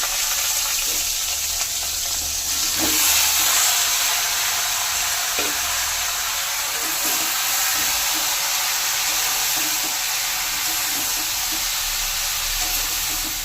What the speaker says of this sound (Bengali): এবার দিয়ে দেবো সিদ্ধ করা এঁচড়।